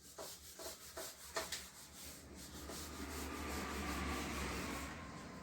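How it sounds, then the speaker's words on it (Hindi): Someone rubs a board with a dry, scratchy back-and-forth motion, a few distinct strokes at first and then a steadier continuous rubbing, fairly close and alone without speech. "मैं इसको रब कर रहा हूं।"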